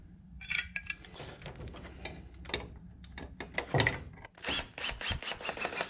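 Screws are driven into a Nayax VPOS Touch credit card reader mount on a combo vending machine, producing close metallic clicks, ratcheting ticks and scraping clatter in irregular bursts, ending in a quicker run of clicks.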